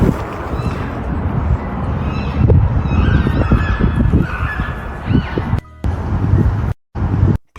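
Geese honk repeatedly in flight near bison at Yellowstone National Park, a loud, overlapping chorus of calls over wind and movement noise, cut by brief gaps of silence near the end.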